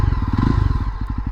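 A Yezdi Roadster's 334cc single-cylinder, liquid-cooled DOHC engine idles close by, a steady low thumping pulse with light mechanical clatter and no talking.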